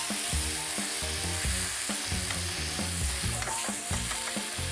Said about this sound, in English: I'll get my wooden spoon, stirring that.